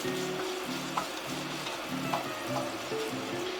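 Finely diced onion frying in melted butter, a soft steady sizzle close by with a few light spoon taps while being stirred, alongside a repeating low hum; no one speaking.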